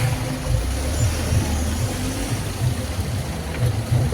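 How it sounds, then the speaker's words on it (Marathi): Steady low rumble of road traffic from a busy route near a hotel villa on the outskirts of a small town in Alleppey, with engines droning continuously and no clear individual pass-bys. "खूपच मध्ये खूपच गाड्या येतात ते"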